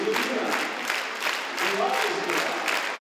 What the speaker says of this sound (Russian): Каждую композицию провожали аплодисментами.